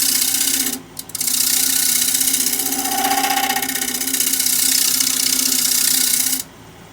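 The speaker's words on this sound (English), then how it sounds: "Just some nice shear scrapes." A woodturning scraper shears against a spinning cherry wood bowl on a lathe, making a steady close rasping whir with a short break near the start before it stops abruptly near the end.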